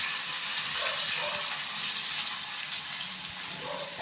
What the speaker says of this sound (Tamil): இப்போ நம்ம அதை நல்லா வதக்கிக்கலாம்.